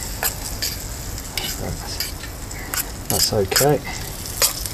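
Bacon sizzles steadily in a pan over a Solo Stove Lite wood-burning stove, with scraping and stirring clinks of a utensil and a brief spoken remark over the crackle.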